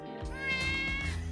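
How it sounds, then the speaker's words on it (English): A cat gives a single drawn-out meow, close and clear, rising and then tapering over about a second, with no talk. "That cat is so cute."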